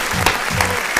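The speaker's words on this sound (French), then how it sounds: "je pense même que ça mérite des applaudissements" A short burst of clapping hands, a few sharp claps over a steady patter, heard close during a French-language interview show.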